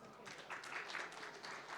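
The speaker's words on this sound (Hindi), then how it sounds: "इस पंडाल के लिए तालियां।" An audience in a literature festival pavilion gives a short burst of soft applause, a brief patter of many hands, fairly faint and distant.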